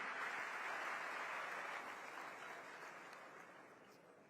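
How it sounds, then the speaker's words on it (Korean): Audience at Cairo University applauding to welcome South Korea's president, a dense wash of clapping from a large seated crowd, steady at first and then slowly fading, heard alone without talk. "따뜻한 박수로 환영해 주시기 바랍니다"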